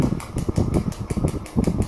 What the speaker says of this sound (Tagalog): At yan ay umiikot na yung motor.